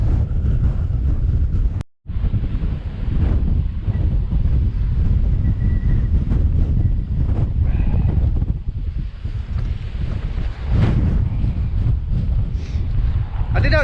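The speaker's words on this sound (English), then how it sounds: "it's just too windy, isn't it?" Strong wind roars against the microphone on open moorland at a quarry on Pule Hill, Marsden, with a loud, continuous buffeting rumble and one brief dropout near the start.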